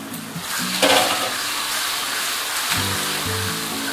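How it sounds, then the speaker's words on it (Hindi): Onions with garlic paste fry gently on low heat for kadhi pakora, giving a steady, soft sizzle that runs continuously beneath light background music. "प्याजों को पहले हम ब्राउन होने देंगे हल्की सी आंच पे"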